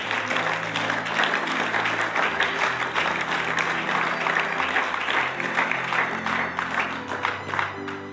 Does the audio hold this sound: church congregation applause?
yes